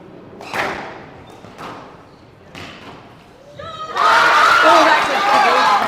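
At a glass-court squash semi-final of the Asian Junior Team Championship, a few sharp ball thuds echo around the court. Then a loud crowd bursts into sustained cheering and applause for the final couple of seconds.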